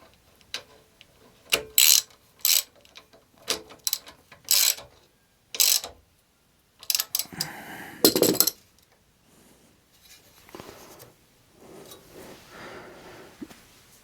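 Sharp ratcheting clicks and metallic clinks in several short bursts as a spotlight mount is tightened on a Suzuki DL800 V-Strom motorcycle, followed by quieter fiddling with the fitting.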